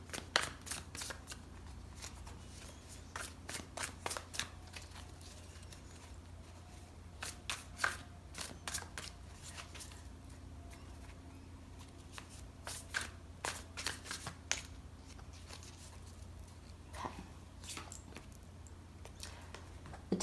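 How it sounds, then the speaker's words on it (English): Tarot cards shuffled by hand, a quick series of crisp riffling bursts in uneven clusters across the whole stretch, close and moderately loud, with brief pauses between runs and no talking. "I've already pre-shuffled them, but I like to give them another little shuffle"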